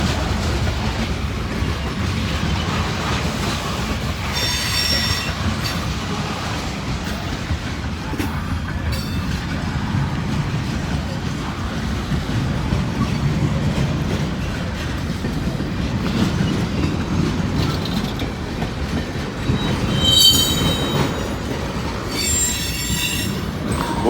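A Norfolk Southern freight train rolls past on the tracks, its wheels squealing and grinding in a loud, continuous rumble, with bursts of high screeching flange squeal near the start and again toward the end.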